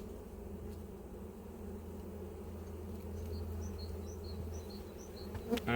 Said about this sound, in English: So there are a lot of bees in here.